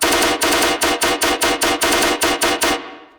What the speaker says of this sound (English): then we get to these gun samples here